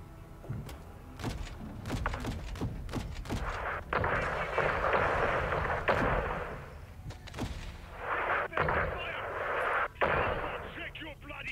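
AC-130 gunship cannons firing in the Modern Warfare 2 campaign, a run of sharp booming shots early on followed by bursts of hissing, rushing noise and further thuds, with game voices talking over the action.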